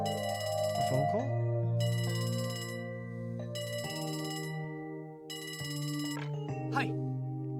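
A telephone in the game Trails from Zero rings in four evenly spaced electronic bursts over a sustained musical backdrop, with faint voice-like sounds in the mix.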